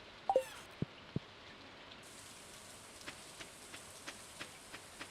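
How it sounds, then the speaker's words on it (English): Rain in the farming video game Stardew Valley falls as a soft, steady hiss, opening with a few sharp clicks and then joined by a regular series of faint ticks. "rain's eating into my profits too."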